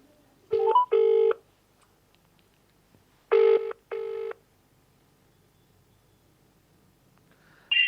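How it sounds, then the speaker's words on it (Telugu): Telephone keypad tones and ringing on a phone-in call to a television studio, heard as two pairs of short electronic tone bursts separated by a pause, clear and fairly loud, with no talk over them. "రియాజ్ సార్తో అయితే మాట్లాడదాం ఒకసారి ఫోన్ ఇన్లో."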